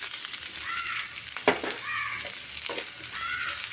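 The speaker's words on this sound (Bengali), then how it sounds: "পেঁয়াজটা একটু তেলের মধ্যে নাড়াচাড়া করে নেব।" Chopped onion with slit green chillies sizzles in hot oil in a pan, steady frying hiss broken by a few scraping stirs of a spatula, close and moderately loud, no voices.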